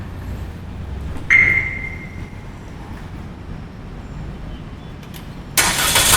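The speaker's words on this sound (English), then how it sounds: "So the car turns on by itself." A Chery car engine starts up by remote key from outside the vehicle, giving a brief mechanical whir and then a loud, steady running roar at the end, with no talking.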